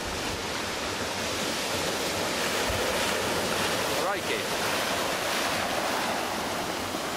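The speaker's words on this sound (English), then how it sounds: "That was the waves hitting the rock around the corner." Steady roar of surf and wind, with a single deep boom of waves striking rock partway through; someone speaks a brief exclamation.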